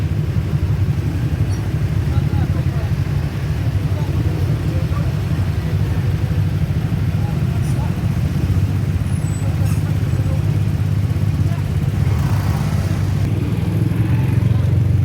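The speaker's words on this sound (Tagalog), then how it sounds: "Sobrang traffic mga kapatid." Heavy, congested street traffic after a typhoon, with motorcycles and cars idling and revving in a continuous loud rumble, engines droning close by for the whole stretch.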